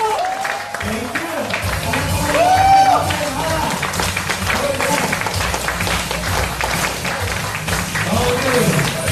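An audience applauds and cheers to welcome a guest speaker, the president of a company, at a Filipino remittance business presentation. Sustained loud clapping mixed with crowd noise fills the whole stretch, with some voices over it.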